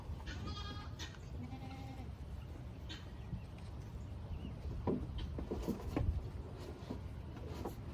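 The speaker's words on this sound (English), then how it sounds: "Goats all around us, Johnny." Goats bleat in short nasal cries on a farm, several overlapping calls near and far over a rustling, shuffling background, with a faint voice murmuring now and then.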